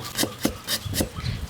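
A knife finely chops ginger on a wooden board in steady, close thuds, about four or five crisp strokes, each with a short scraping edge.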